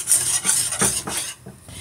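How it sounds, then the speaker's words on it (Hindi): A spoon stirring cream into a mixture in a pan for a chicken pizza topping, quick rhythmic scraping strokes close up with a faint sizzle beneath. "इसको भी अच्छे से हमने मिक्स कर लेना"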